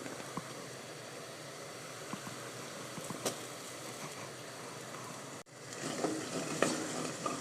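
Mixed tomato and pepper paste melting with onions, black pepper and salt in a pan, a steady soft sizzle with small crackles and pops, brief stirring scrapes and a short break before the frying resumes.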